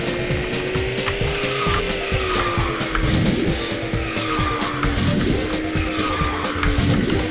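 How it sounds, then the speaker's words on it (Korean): A KartRider kart, the Blade practice kart with a Solid Alpha-style engine, hums along at a steady, warbling pitch while tires skid and squeal repeatedly throughout the close, continuous race. "소리 엔진도 대기 소리도 솔리드 알파예요 다."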